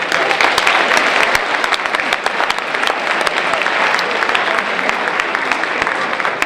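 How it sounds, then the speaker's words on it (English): A school audience at a Martin Luther King Jr. sophomore speech showcase claps in loud, dense, sustained applause that fills the whole stretch without a break. "So give yourselves all a round of applause."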